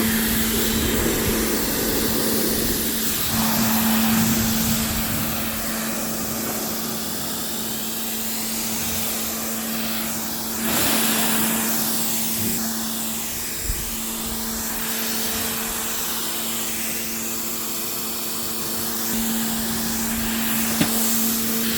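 Pressure-washer rinse of a car during detailing, washing off iron remover and super foam: a steady, loud broadband spray with a constant motor hum running throughout, with no talking.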